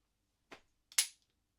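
A stainless steel cap-and-ball black powder pistol fires outdoors in England: a small sharp pop, then a louder, crisper bang about half a second later, both brief and fairly faint with quick decay.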